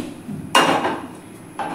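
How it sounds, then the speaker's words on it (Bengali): A metal wok is set down on a lit gas stove with a sharp clank, followed about a second later by a second, lighter knock over a quiet background. "কড়াই বসিয়ে দিয়েছি।"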